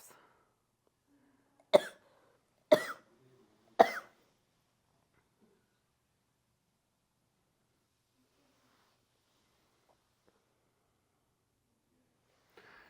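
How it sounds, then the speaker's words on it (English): Three sharp, wet coughs spaced about a second apart, close and loud, followed by long quiet. "Productive coughs."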